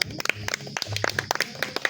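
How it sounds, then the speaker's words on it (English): An audience at an International Women's Day fireside chat claps in a quick run of sharp, scattered hand claps, with a voice talking over them. "Let's clap for her."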